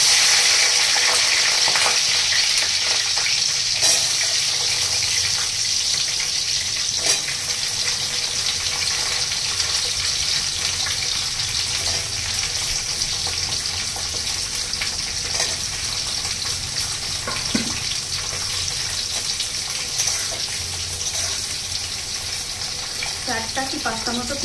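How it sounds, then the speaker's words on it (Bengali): Onions sizzle as they fry in hot oil for methi chicken, a loud continuous hiss and crackle lasting the whole stretch, with occasional stirring clatters and no voice heard. "তো আমি এখন তেলের মধ্যে পেঁয়াজ দিয়ে দিচ্ছি।"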